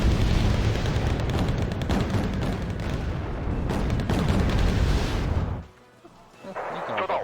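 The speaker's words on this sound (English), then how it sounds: "we just destroyed them all with 73mm gunfire without anybody on either side even firing a missile" Heavy 73mm cannon fire in the real-time strategy game Wargame: Red Dragon, with dense rumbling booms and blasts layered continuously for several seconds before dropping away, then a softer rumble returning.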